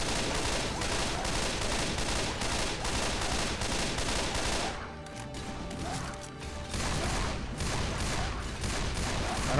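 Gunfire in Left 4 Dead 2, with a Desert Eagle among the weapons, crackles in dense rapid bursts that briefly drop away midway before the shooting resumes, loud and continuous.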